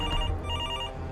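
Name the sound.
telephone ringing, video game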